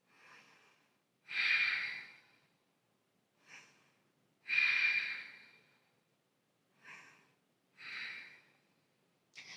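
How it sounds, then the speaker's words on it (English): Deep ujjayi breaths during a yoga flow come as slow, audible, throaty rushes of air, alternating longer strong exhales with softer shorter breaths, close and quiet, separated by silent pauses with no talking. "breathe ujjayi, 3 deep ujjayi breaths"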